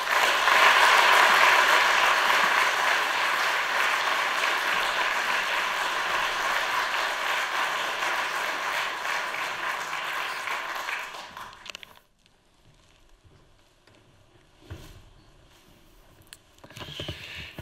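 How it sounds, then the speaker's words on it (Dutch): Warm audience applause for the Jan Campert Prize winner at a literary festival evening, starting loud and full, then stopping abruptly at about twelve seconds, leaving quiet with scattered faint sounds. "Dames en heren, hartelijk applaus voor de winnaar van de Jan Kampertprijs"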